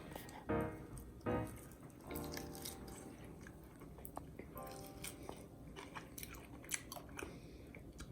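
Someone bites into a tender, juicy smoked pork rib cooked on a Weber kettle, then chews wetly and steadily up close, with two firmer bites near the start.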